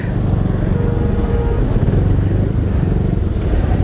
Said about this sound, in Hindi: सो आज बहुत ट्रैफिक है।